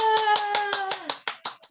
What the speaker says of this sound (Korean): 우리 김은성 사장님께 박수 한번 쳐드리겠습니다